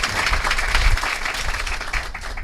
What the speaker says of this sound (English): How about a round of applause for Commissioner Eli Torres?